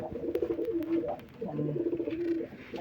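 Pigeons coo repeatedly nearby on a pigeon farm, low throaty calls overlapping in a soft rolling rhythm.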